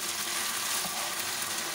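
Boiled macaroni being mixed into chicken and vegetables in a hot pan, a steady close sizzle with faint stirring scrapes, no voices.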